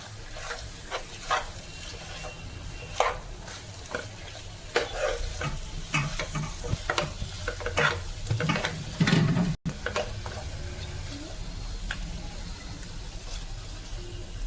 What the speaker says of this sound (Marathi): तर 5 मिनिटं आपण याला मस्तपैकी परतून घेऊया.